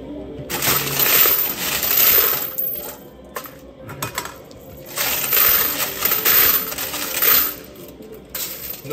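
Coins cascade and clatter in a French arcade coin pusher machine, bursts of metallic jingling that swell and fade across several rounds, loud and close, with quieter gaps between.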